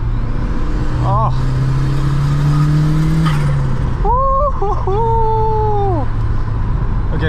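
Mk2 Golf GTI with a 1.8T engine and big GTX2867 turbo pulls hard, its low engine note rising steadily for a few seconds before easing off, with excited vocal exclamations later.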